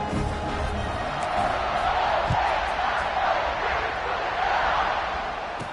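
Steady crowd roar from a packed stadium in an American football video game, a continuous broad wash of cheering held at a constant level for several seconds with no commentary over it.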